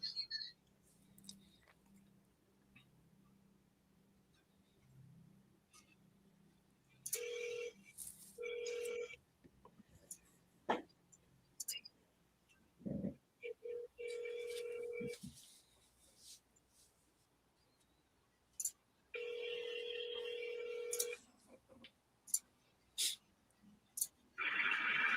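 An outgoing phone call rings back through a handset, several separate ring tones in bursts with pauses between, faint and close, with quiet breathing and small handling noises in between.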